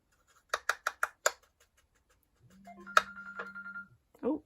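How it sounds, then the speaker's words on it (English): A phone rings in a rapid series of electronic trills, then a steady tone buzzes with a sharp click in it. Faint and indoors, and a voice follows briefly afterward. "Oh, sorry, that's my phone."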